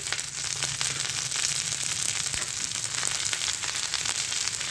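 Tempeh with spring onion, coriander stems and green chilli sautés in a pan over low heat, a continuous close crackling sizzle with small pops and no talking.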